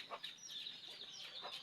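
Backyard chickens cluck and squawk near the microphone in short, repeated calls over a low background, with no talking.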